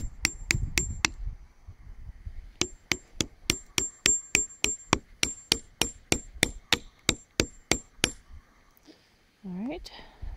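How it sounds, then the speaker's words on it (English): Hammer blows driving a metal spile into a drilled hole in a maple tree trunk, a quick burst of sharp ringing strikes, then a steady series of about twenty evenly spaced metallic knocks, close and loud. "You just hammer them into the hole"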